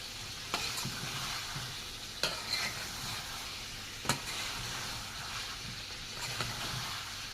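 Chopped boiled potatoes being stirred in a pan, a continuous hissing sizzle with several sharp scrapes and knocks of the spoon against the pan at uneven intervals, no talking.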